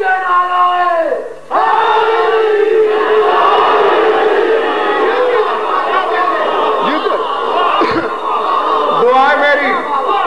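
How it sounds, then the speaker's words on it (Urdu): Crowd at a religious majlis gathering chanting slogans together in loud, sustained unison, a dense wall of voices with rising and falling shouts that briefly dips before surging again. "عید کے نعرے"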